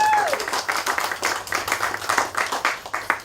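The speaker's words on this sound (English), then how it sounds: "Let's give a round of applause for that." An audience at a community meeting claps in a round of applause, a dense, steady patter of many hands that stays fairly loud throughout, with a brief voice at the start.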